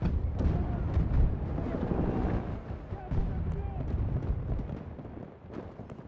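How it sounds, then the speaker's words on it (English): Grenade explosions in Battlefield 2042, booming blasts and rumbling debris rolling over several seconds amid ongoing battle noise, with a player talking over it. "Oh, grenades. Are you kidding me? I'm like a magnet to these grenades."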